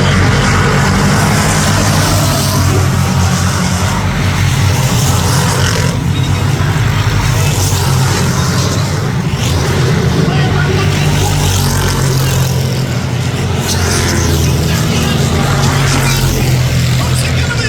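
Crown Stock cars race around a track in a feature event, a loud continuous roar of engines rising and falling as cars pass, with a race announcer talking over it throughout.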